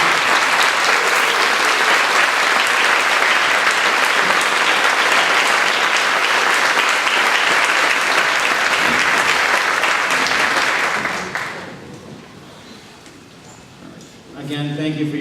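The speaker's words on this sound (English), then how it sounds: "I'd like to give you a round of applause for your service to this country" Sustained, loud applause from a town meeting audience honoring veterans fills the hall for about eleven seconds, then tapers off sharply into a quieter room with a brief rustle near the end.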